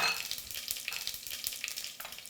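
A single bay leaf and a teaspoon of cumin seeds crackle and sizzle in hot oil for a curry pilau, a soft, dense spitting hiss that starts with a brief louder burst and then settles.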